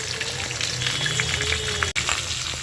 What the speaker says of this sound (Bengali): সেই জন্য মাছের মাথাগুলো লাল লাল করে ভাইজে নিচ্ছি